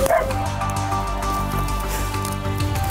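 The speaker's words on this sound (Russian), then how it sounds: "Да, собаки есть." A dog barks in quick, rapid repeated yaps, close and loud, over a steady background hum and crackle near an abandoned house.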